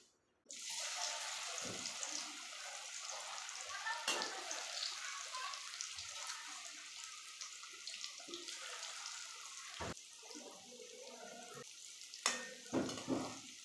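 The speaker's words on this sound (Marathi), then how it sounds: "तेल गरम झालेलं आहे आता आपण त्यामध्ये वड्या टाकून घेऊ" Steady hissing sizzle of taro leaf rolls (alu vadi) frying in hot oil, continuous throughout with a few sharper crackles and splashes near the end; no talking.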